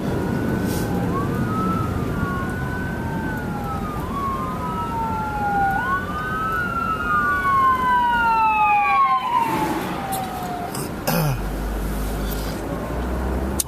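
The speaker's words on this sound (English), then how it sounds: "Ambulance." A wailing ambulance siren sweeps up and down repeatedly, steady and fairly loud over traffic noise, fading as the vehicle passes.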